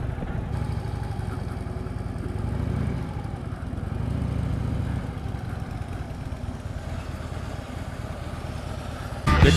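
A 2014 Harley-Davidson Street Glide with the high-output 103 engine rumbles steadily while being ridden, its low, continuous engine drone holding close and even with a brief louder burst at the very end.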